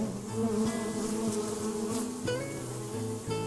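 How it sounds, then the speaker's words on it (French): Steady, dense buzzing of many honeybees close by at the hive, a continuous hum with shifting pitches and no voices. "les abeilles qu'on voit ici"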